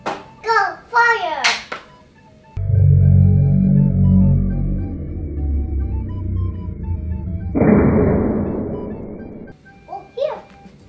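A Nerf Iron Man Assembler Gear toy blaster gives a long electronic firing effect, a loud buzzing tone with a sharp louder hiss near the end, between bursts of a child's speech.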